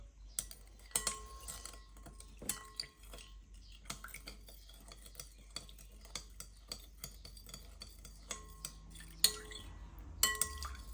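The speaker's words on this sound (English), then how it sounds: "give that a gentle stir." Spoon gently stirring a yeast, sugar and water mixture in a bowl for Turkish flat bread, making soft scattered clinks and taps against the side, fairly quiet and irregular.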